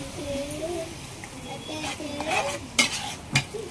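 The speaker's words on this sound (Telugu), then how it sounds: "ఇలా కనబడే విధంగా చూసారా ఎలా ఫ్రై చేసుకోవాలో ఆయిల్లో" Chicken curry with onions and green chillies being stirred and fried in oil, a steady sizzle with scraping stirs and a couple of sharp utensil knocks near the end, while a voice talks over it.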